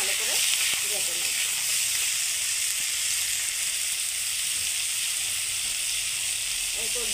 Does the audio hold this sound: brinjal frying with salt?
yes